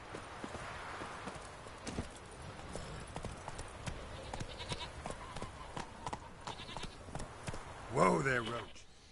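Hooves of Roach, the horse in The Witcher 3, clip-clop steadily under a dense ambient game bed, with a brief vocal burst near the end.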